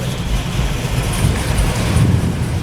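A Chevrolet Trailblazer engine hums in a steady low rumble nearby at an outdoor car meet, with faint background noise.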